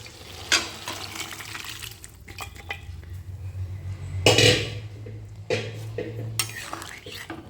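Cooked dal goes into a pot for sambar with onions, heard as wet splashing and pouring amid clinks of a utensil against metal, with one louder gush midway and softer scrapes around it.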